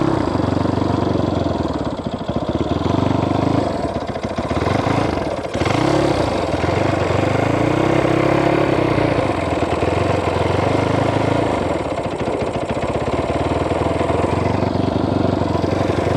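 A cheap Chinese dirt bike engine idles steadily and loudly up close, a continuous low putter with a slight dip in pitch midway, running alone without talk.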